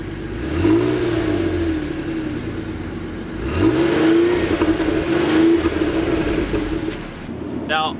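A Ford Taurus SHO with a 365-horsepower twin-turbo EcoBoost engine revs up twice, its pitch sweeping up and falling back each time, loud and close against a steady engine drone.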